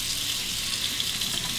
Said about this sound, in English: Temper it under the hot water.